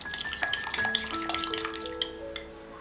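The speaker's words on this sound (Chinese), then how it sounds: "碗里打入2颗鸡蛋，加入1把小葱，搅拌均匀。" Two eggs and a handful of chopped scallions are beaten in a bowl: quick, light clinking strokes in an uneven rhythm, close and fairly quiet, with soft sustained tones running beneath.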